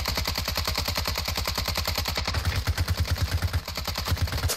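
An RPK light machine gun in Warzone 2 fires a long, sustained stream of rapid shots, loud and close, with an even, unbroken rhythm.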